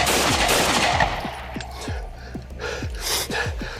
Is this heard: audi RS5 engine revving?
no